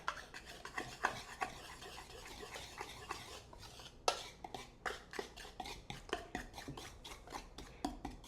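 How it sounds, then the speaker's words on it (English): A whisk stirs dry muffin ingredients in a bowl, a quiet, close scraping and rasping with light metallic taps that fall into a quick, regular stroke rhythm toward the end, with no voices. "whisking the dry ingredients together gets them mixed better than using a spatula or a spoon or whatever."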